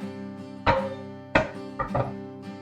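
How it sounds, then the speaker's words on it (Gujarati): A spoonful of white sesame seeds spits in hot oil already tempered with cumin and carom seeds for Gujarati kapuriya, giving a few sharp, separate pops spaced over a couple of seconds. "આપણા તલ સરસ ફૂટે છે"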